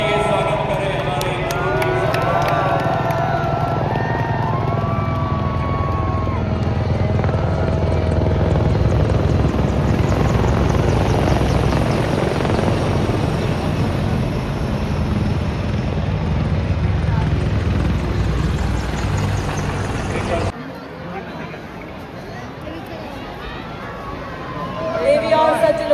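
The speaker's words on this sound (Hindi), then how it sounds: "सियाचिन तक हर मिशन का हिस्सा बन रहे ध्रुव एवं रुद्रा हेलीकॉप्टर" Military Dhruv and Rudra helicopters fly past at an Indian Army parade, the steady rotor drone loud and close for about twenty seconds, with voices talking over it, then dropping away abruptly to a quieter background.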